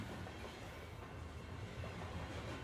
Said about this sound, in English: Get on this train. Let's ride.